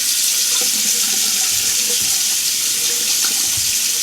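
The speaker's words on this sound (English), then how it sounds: "All right, so we got the water on." Water runs hard and steady from a cabin tap with the pump working, a loud continuous rush close up that lasts throughout and then cuts off at the end, with no voices.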